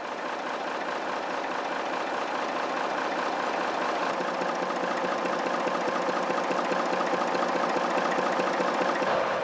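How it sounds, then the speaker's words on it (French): A BB diesel-electric locomotive's Sulzer 6LDA22 inline six-cylinder engine, a big slow heavy diesel of 600 or 750 hp at 950 rpm, runs steadily and loudly with a dense, rhythmic throb, close and constant throughout with no talking. "des machines diesel électriques du type BB équipées du moteur Sulzer 6LDA22 à 6 cylindres en ligne"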